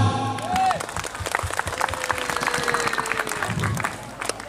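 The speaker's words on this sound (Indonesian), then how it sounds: "Tepuk tangan." Applause and some cheering rise from a crowd at an Islamic religious gathering, dense and continuous, with brief voices and tonal sounds mixed in.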